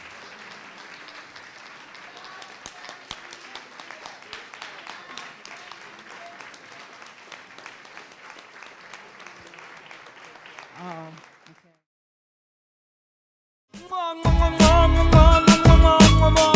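An audience at a photography exhibition event claps steadily for about eleven seconds, fairly soft and continuous, then silence, followed by a burst of loud music with a voice.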